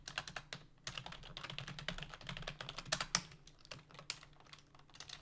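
Rapid typing on a computer keyboard, with quick irregular clusters of crisp keystrokes running throughout, close and fairly quiet, with no talking.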